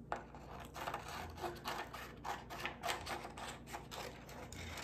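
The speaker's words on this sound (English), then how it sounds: "I'm gonna take my scissors and cut a circle around him" Quiet snipping and rasping of scissors cutting through a Shrinky Dinks plastic sheet, a rapid irregular series of close cuts with no talking.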